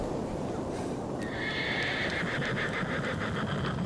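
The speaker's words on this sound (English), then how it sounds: "Then came a neigh" A horse lets out a long, shrill whinny that rises and wavers for a couple of seconds over a steady rumbling, noisy backdrop, with no talking.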